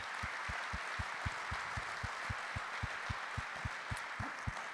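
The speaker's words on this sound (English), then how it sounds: "you should clap for that because he's had a heck of a team" Audience applause at a 2016 NCAA Championship coaches' chat fills the room as a steady wash, with a regular beat of low thumps running through it.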